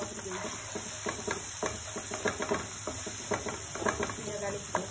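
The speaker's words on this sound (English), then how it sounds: "1 tablespoon of ginger garlic paste into it and frying it for 1 minute" Ginger garlic paste sizzles in a hot pan with repeated stirring scrapes and crackles, steady and close, no voices.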